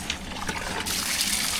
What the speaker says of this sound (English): flush out any of that vinegar water that's in there